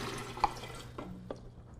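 Spring water trickles and splashes softly into a teapot, a faint close pour with a few small drips and splashes, quiet throughout with no voices.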